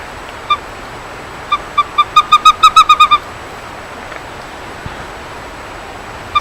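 Western screech owl at a nature park, giving a bouncing-ball call: a few spaced hollow toots, then a quickening run of about ten clear notes, heard alone against quiet background hiss.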